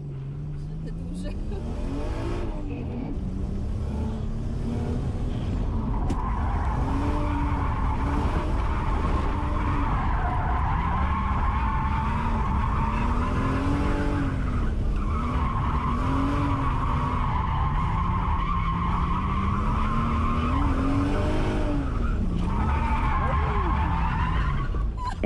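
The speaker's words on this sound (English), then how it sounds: "drifting is controlled oversteer" A drift taxi car slides through sustained drifts, its tires squealing in long loud wavering bursts over a revving, rising and falling engine, with people talking in the cabin.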